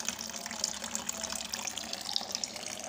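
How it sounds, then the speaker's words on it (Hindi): Tap water pours steadily into a bucket, a continuous close splashing rush with no pauses and no talk throughout. "ये पानी आ रहा है इसको काफ़ी टाइम लगेगा बाल्टी को बकेट को भरने में"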